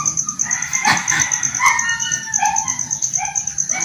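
A dog named Lucky gives a few short, sharp yips and barks, spaced irregularly over a steady background hum.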